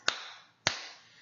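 Two crisp hand claps about half a second apart, close and clear, each decaying quickly into quiet with no talk around them.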